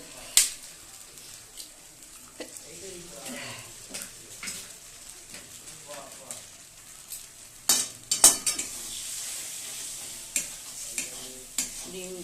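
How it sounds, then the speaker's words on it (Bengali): Two eggs are cracked into sizzling masala for a dhaba-style egg tadka, with sharp cracks near the start and again midway over a soft steady fry, followed by scraping stirs and utensil taps in the pan. "এবার এর মধ্যে আমি দুটো ডিম ফাটিয়ে দেব।"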